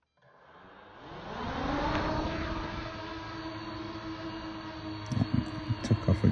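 An MJX Bugs 3 drone taking off at the Greenan shore, its motors spinning up into a steady loud whine and buzz that holds, with a few knocks near the end.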